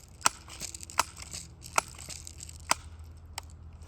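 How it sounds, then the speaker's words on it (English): BB gun rifle being pumped, five sharp clacking strokes at a steady rhythm roughly a second apart, close by and clear with no speech. "now, I'm going to pump my rifle"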